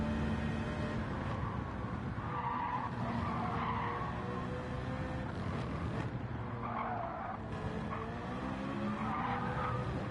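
A race car in a racing game loses its rear end coming out of a corner, and its tires skid and squeal in long wavering bursts over a steady engine drone, loud and close with no talk.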